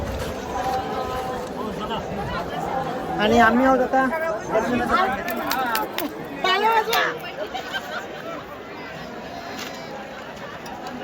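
A dense crowd of pilgrims chatters at the Pandharpur Vari 2024, a steady babble of many voices close around, with a nearby speaker talking over the hubbub.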